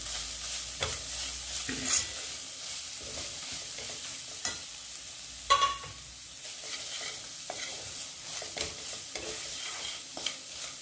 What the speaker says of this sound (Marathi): हा मसाला पण 1 मिनिट भाजून घेऊया.